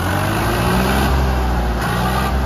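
A simple farm tractor's engine runs steadily, a loud, close, continuous diesel-like rumble with no talk over it.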